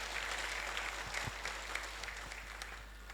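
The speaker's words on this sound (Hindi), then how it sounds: "सब उनका तालियों से स्वागत करें।" An audience at a labour registration and awareness program claps to welcome a deputy commissioner onto the stage, giving a dense, steady patter of applause that carries right through.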